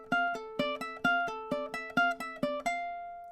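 A ukulele plucks the opening bars of a melody alone, about eight clean, bright notes in a steady, bouncy rhythm, close and moderately loud, each ringing briefly.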